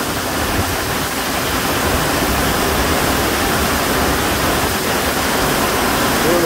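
Heavy rainstorm pouring down in Chalatenango, El Salvador, a loud, steady broadband wash of falling water that continues unbroken without pauses.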